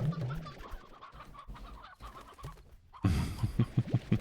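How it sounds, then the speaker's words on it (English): Chickens clucking in the video game Slime Rancher, soft and intermittent at first, then a burst of louder, rhythmic clucks near the end. "I can get more chickens later."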